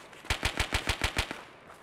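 Rapid burst of gunfire in the shooter game Escape From Tarkov, about eight evenly spaced sharp shots in quick succession, fairly close and loud, with no talking over it.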